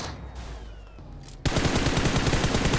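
Gunfire in the battle-royale game PUBG: a quiet lull, then a sudden loud burst of rapid automatic shots that keeps going without a break to the end, close by and with no voices over it.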